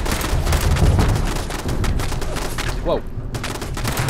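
Rapid turret gunfire from the video game Fallout 76, dense and continuous bursts across the whole clip, briefly easing near the end, with a man's short exclamation over it.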